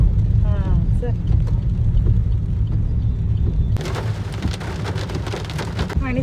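Heavy rain during a drive around town, a dense steady patter of drops on the vehicle that turns sharper and louder partway through, with a low rumble of the car underneath.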